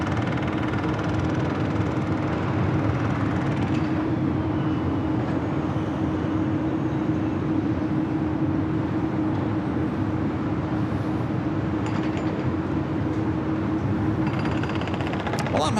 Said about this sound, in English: That Air Mexico Dreamliner heading back to Mexico City, rolling down at 25 right.